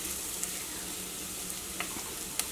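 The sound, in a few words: turmeric and coriander powder sizzling in oil in clay pot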